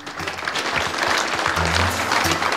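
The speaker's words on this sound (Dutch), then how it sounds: "Een applaus daarvoor alsjeblieft." Applause from an audience at an idea-sharing event, a dense burst of clapping that swells and holds steady, with a voice briefly audible underneath.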